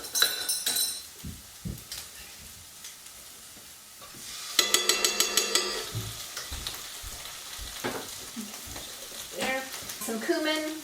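Tomato paste added to garlic and onions in a hot pan, a steady sizzle with spoon scrapes and a quick run of clinks against the metal, close up and without talk.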